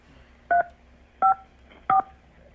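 Three short, evenly spaced phone keypad tones sound as someone taps the keys during a 911 emergency call, each beep clear and alone against a quiet line.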